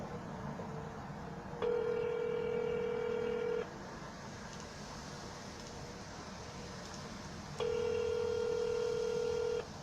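A telephone line during a cold call to a property seller rings back with two long, steady electronic tones several seconds apart over a quiet hum of room noise.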